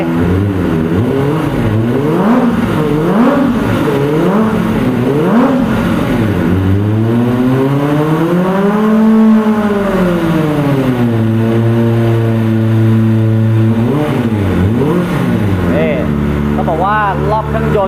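Kawasaki ZX25R sport bike from 2021 with a slip-on aftermarket exhaust, revved repeatedly from idle in rising and falling sweeps, one long held high rev in the middle, loud and close, with someone talking over it.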